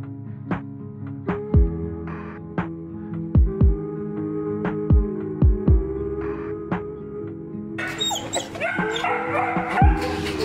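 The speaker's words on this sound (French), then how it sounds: "C'est le chien tout à l'heure." Dogs at an animal shelter let out a series of sharp, close barks and yips spaced every second or so, mixed with whimpering, while a chorus of more distant barking swells near the end.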